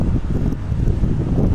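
Strong outdoor wind buffets the microphone in a dense, continuous roar with gusty fluctuations, masking any rustle of the moving trees.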